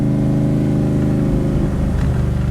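A Backdraft Cobra replica car with independent four-wheel suspension rolling over bumps in second gear, its engine a loud, steady, close-up drone that holds throughout with no talking.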